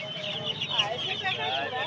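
Native deshi chickens at a poultry market in Uluberia cluck and squawk close by, several birds overlapping amid busy market chatter and voices.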